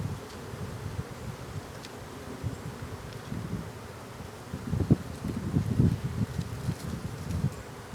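Bees buzz in a dense, steady drone around a beehive being opened, with rustling and wind in the background and the swarm swelling louder midway.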